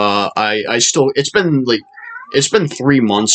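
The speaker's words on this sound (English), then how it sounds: "If you can hear that, that's my cat." A pet house cat meows indoors, a brief, fairly faint cry heard in a short pause while a person keeps talking close to the microphone.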